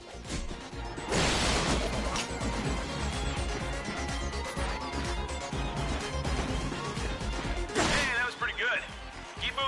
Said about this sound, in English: Let's see how well you can bash these crates.